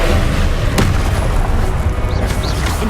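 A Confringo fire spell bursts in Hogwarts Legacy, a loud booming explosion with a sharp crack near the start and a dense rumbling roar that fills the whole moment.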